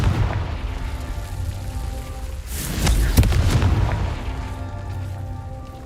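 A Confringo explosion spell goes off in Hogwarts Legacy, a single loud, booming burst near the middle that rises out of a rumbling game background and then fades back into it.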